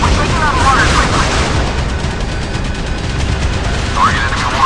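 Naval gunfire rumbles in the video game Modern Warships during a cargo escort mission, a dense, continuous barrage of booms and blasts with a few higher whistling sweeps and voices mixed in.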